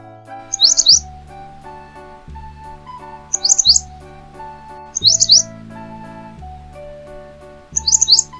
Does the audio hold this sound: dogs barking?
no